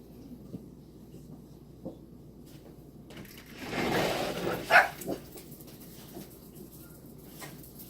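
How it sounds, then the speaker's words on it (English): Five dogs are let back indoors: a quiet room with soft shuffling, then a short burst of movement and a single sharp bark or yip midway, followed by a few faint thumps and scratches. "Hold on, I'll let the dogs back in."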